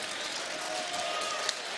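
A partisan boxing crowd in an arena cheers and applauds in a dense, continuous wash of noise, fairly distant, with a faint commentator voice underneath.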